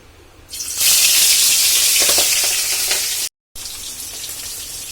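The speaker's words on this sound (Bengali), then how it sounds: "দেখো তেল গরম হয়ে গেছে, এবার কড়াইতে মাছগুলো ছেড়ে দেবো।" Hilsa fish dropped into hot oil in a wok set off a sudden loud hiss that stays strong and bubbling, then eases slightly after a brief cut.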